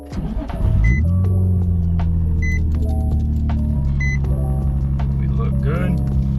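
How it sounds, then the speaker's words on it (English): A Nissan 350Z engine starts and idles right after an oil change, a steady loud rumble with a low hum that holds throughout, and faint clicks and a brief voice near the end. "Now at this point, you can start your car"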